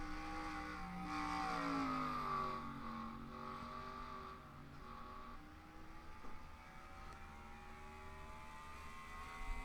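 Race car engines in a racing video game at Road America rise and fall in pitch as they accelerate through the final corners, a steady droning whine with no voices over it.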